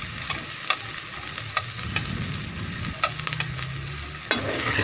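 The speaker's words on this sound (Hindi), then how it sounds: "कढ़ाई में थोड़ा सा घी डाल लेना है। इसके बाद ये प्याज, पहले प्याज थोड़ा डालेंगे" Onions sizzle steadily in a little ghee in a kadai, with a continuous crackling fry and occasional scraping stirs, close and loud throughout.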